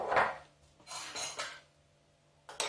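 A utensil stirring powdered neutral gelatin into rosé cava in a pot, giving a few soft clinks and scrapes against the metal with short pauses between strokes.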